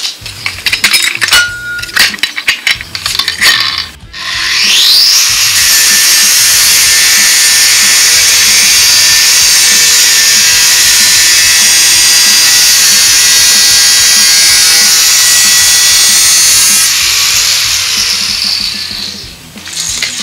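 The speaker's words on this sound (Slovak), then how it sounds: "No ja si na to zoberiem flexu." An angle grinder cuts open a cement bag, a loud, steady high-pitched whine holding for about twelve seconds after a few sharp clinks and a brief spin-up, then winding down at the end.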